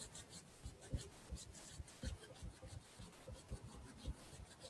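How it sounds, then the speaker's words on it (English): Hands rub together in a quiet relaxation ritual, a soft, steady brushing friction with rhythmic strokes, close to the microphone but faint overall. "Again, I want you to rub your hands together."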